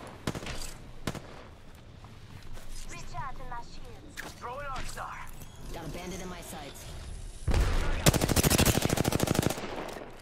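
Automatic gunfire in the battle royale shooter Apex Legends, a close, loud rapid burst near the end after scattered shots, heard under a player's voice and game voice lines.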